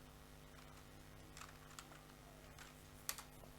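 Typing on a computer keyboard while styling a calculator webpage with CSS, very faint soft key taps scattered over a low hum, with one slightly sharper click near the end.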